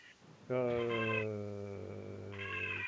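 A cat meows loudly and insistently close to a microphone during a live stream, one long drawn-out wail that carries through most of the clip, with no one speaking over it.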